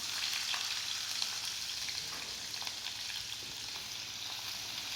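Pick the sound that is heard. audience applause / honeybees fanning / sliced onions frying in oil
sliced onions frying in oil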